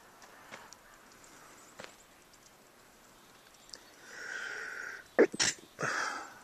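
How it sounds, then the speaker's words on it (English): A single sharp sneeze bursts out near the end, close to the microphone, after a few soft sniffs and rustles during a wet, heavy snowstorm outdoors. "Sorry, I sneezed there."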